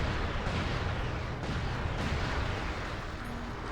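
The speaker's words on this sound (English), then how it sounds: "Aw man, they destroyed the cannon." In the video game Castlevania: Curse of Darkness, a cannon is destroyed amid a dense, continuous roar of booming blasts and rumbling explosions that stays loud and near throughout, with no speech.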